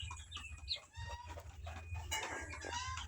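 Month-old Rhode Island White cross White Leghorn chicks cluck and peep softly at close range, with a busy mix of overlapping calls over a low background hum.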